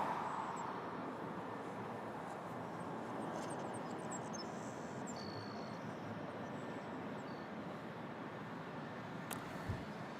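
A passenger jet landing at Toronto Pearson airport, its engine roar a steady, broad, fairly distant rumble that holds through the whole stretch with no voices over it.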